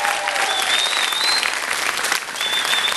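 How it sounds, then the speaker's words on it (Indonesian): Concert audience applauding at the Akademi Fantasia AF4 prelude concert, a dense, loud wash of clapping and crowd cheer filling the whole stretch. "Berikan tepukan untuk Ajay, guru persembahan vokal Akademi Fantasia yang keempat"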